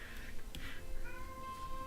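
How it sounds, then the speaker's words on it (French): Cat meowing plaintively indoors, a faint, short, thin cry behind quiet background sound from a Diablo 3 game session, with no talking. "on entend mon chat qui est assez plaintif ces temps-ci"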